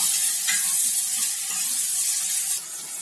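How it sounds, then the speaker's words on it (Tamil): Tomato sautéing in a pan with ginger garlic paste for a vegetable kurma, giving a steady close sizzle and frying hiss with a few soft stirring scrapes throughout. "இப்போ ஒரே ஒரு தக்காளி சேர்த்துக்குவோம் தக்காளி கொஞ்சம் வதங்கட்டும்"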